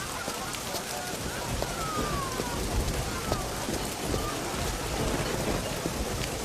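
Rain falls steadily and evenly, a constant hiss of drops striking surfaces, with faint thunder rolling somewhere in the distance.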